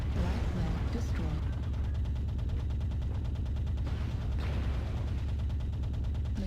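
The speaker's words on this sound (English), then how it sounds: "Machine gun" Machine gun fire from a light mech in MechWarrior Online, a rapid, steady train of regular shots running continuously at moderate level over a dense low rumble of game sound.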